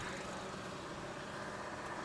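A 2019 Honda HR-V family car imported from Thailand idles smoothly, giving a faint, steady low engine hum with no change in pitch.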